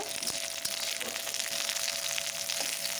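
Cauliflower florets fry lightly in a pan with steady, close sizzling and scattered small pops, and nobody talks.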